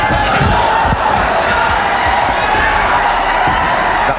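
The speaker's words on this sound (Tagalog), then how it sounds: "The crowd egging on Pacquiao." Loud arena crowd at a Manny Pacquiao boxing bout, a dense, steady roar of cheering and shouting with scattered whoops, sustained throughout with no break.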